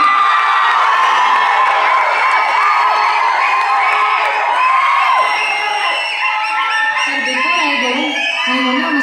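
A large crowd at a film-star speaking event with Santhanam cheers, whoops and shouts continuously and loudly, with high excited voices among them, for about nine seconds.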